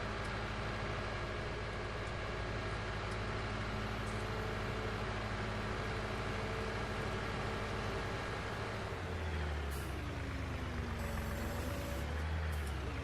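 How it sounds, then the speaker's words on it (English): Heavy farm tractor engine droning steadily in a farming simulation game, a low continuous rumble that shifts pitch and load near the end as the machine maneuvers. "get the new tractor to put on the planter"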